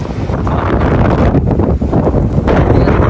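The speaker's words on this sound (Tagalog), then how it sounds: "Grabe yung hangin dito." Strong wind from a Greenland snowstorm roars steadily and loudly across the microphone, a dense, unbroken rush with gusty surges and no voices.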